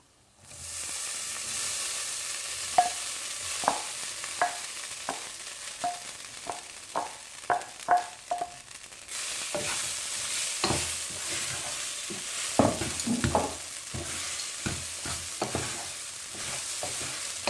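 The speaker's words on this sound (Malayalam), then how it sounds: "എല്ലാം കൂടി മിക്സ് ചെയ്ത് കൊടുക്കാം." Crumbled leftover idli is stirred into a hot pan for upma, with a constant frying sizzle and hiss broken by repeated sharp scrapes and taps of a spatula, close and steady.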